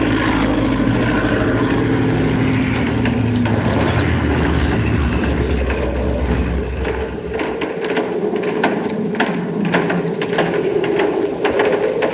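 A propeller airplane flies past, a loud, steady droning engine hum that fills the whole stretch without pause and shifts slightly in tone partway through as it moves by.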